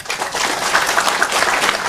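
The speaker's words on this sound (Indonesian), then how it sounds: "tepuk tangan untuk dia" An audience at a talk gives brief applause, a steady patter of many hands clapping for about two seconds.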